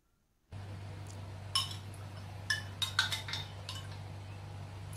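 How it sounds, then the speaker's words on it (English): A spoon stirs a purple herbal Hospital Too Far drink in a cup, producing a cluster of light metallic clinks against the sides over a low steady hum, with no speech. "Just stir and it's ready to drink."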